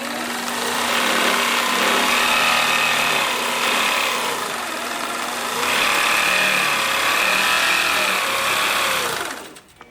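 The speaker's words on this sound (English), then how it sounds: "on the right-hand side, I'm going to hit clutch blue, and that engages the machine" APQS longarm quilting machine running with a steady mechanical whir, close and fairly loud, swelling and easing as it moves, then cutting off at the end.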